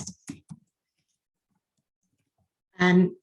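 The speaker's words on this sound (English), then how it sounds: "So I can just click and type." Computer mouse clicking: a few quick, close clicks in a short burst at the start, then silence, followed by a brief voice-like sound near the end.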